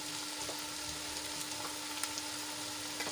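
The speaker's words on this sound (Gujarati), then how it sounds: "થોડાક હલાવીને આ રીતે આપણે મસાલાને સાંતળી લઈશું" Masala with chili powder and salt sautés in a pan for the gravy of a moong pulav, a steady sizzle with light stirring scrapes and soft clicks throughout, no talking.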